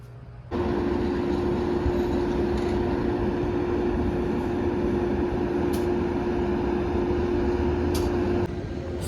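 A steady low rumble and drone of the Downeaster train idling at Brunswick station, Maine, a constant hum throughout with faint clicks, no voices.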